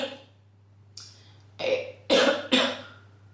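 A woman coughs several times in quick, loud, close bursts, the last three heavier and closely spaced, with a brief softer throat sound before them.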